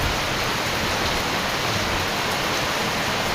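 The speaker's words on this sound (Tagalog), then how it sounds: "Lakas ng ulan." Heavy rain pours down as a dense, steady hiss of broadband noise, loud and unbroken, with no voices over it.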